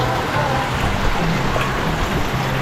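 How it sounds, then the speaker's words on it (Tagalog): Heavy rain pours steadily and close by outside a small milk tea and snack shop, a dense continuous hiss with a low rumble beneath and no voices. "Lakas ng ulan, guys."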